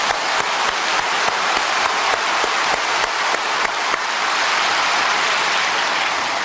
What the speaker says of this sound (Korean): 아예 한번 힘차게 박수 칩시다.